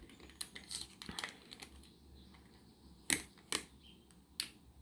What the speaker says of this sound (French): on va prendre un petit bout de papier collant